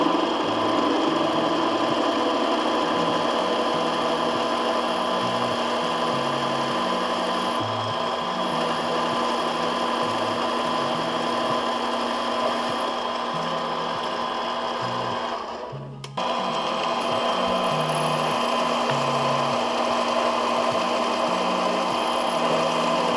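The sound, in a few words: lathe machining aluminum radiator support spacers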